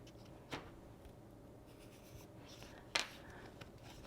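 A pencil drawn along the edge of a paper template gives faint, quiet scratching, with two brief, sharper strokes against a soft background hiss.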